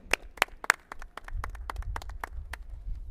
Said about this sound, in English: So let's give Phil a great big round of applause.